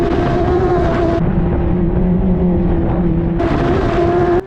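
An F1000 race car engine screams steadily at high revs while driving downhill at speed, a loud continuous whine that drops in pitch on a downshift and rises again near the end, with no talk.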